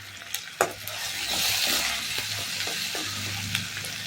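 Ginger garlic paste fries with a steady close sizzle in a pan, broken by a few sharp scrapes and taps of a spoon stirring it.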